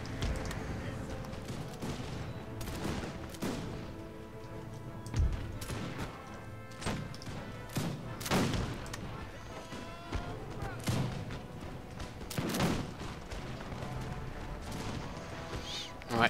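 Musket volleys in the video game Empire Total War: repeated ragged bursts of massed gunfire crackle and thud at irregular intervals over a continuous battle din, with someone talking through it.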